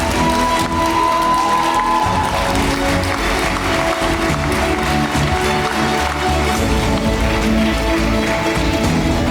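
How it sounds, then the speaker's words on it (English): Audience applause at a Bible contest finals honoring the winner and runner-up, a dense, continuous roar of clapping and cheering filling the hall, loud and sustained throughout. "a big round of applause for Barry Saffron and a runner-up"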